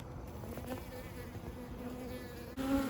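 Honey bees at an open hive make a dense, steady buzzing drone, close and continuous, with no talking over it.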